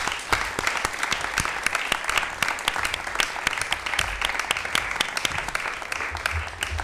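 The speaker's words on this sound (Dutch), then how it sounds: "Ik zou zeggen, applaus" Talk show audience at VondelCS applauding as guests join the table, a dense, steady burst of clapping with sharp individual claps standing out throughout.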